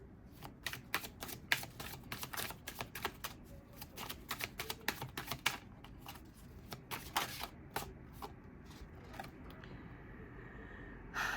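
Tarot cards are shuffled by hand to draw a single card, giving a run of quick, crisp riffling flutters and soft slaps close up, with no talking.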